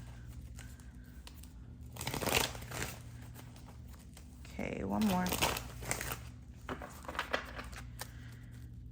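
Soft papery riffling and crinkling of tarot cards being shuffled in two brief bursts, with a voice speaking quietly between them.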